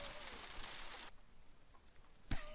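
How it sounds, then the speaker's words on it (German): Soft rain falls in the Sherlock Holmes: Crimes & Punishments video game, a faint steady hiss that cuts out abruptly partway through, followed by a quiet stretch and a brief sharp knock near the end. "Wie das so regnet, aber schön gemacht."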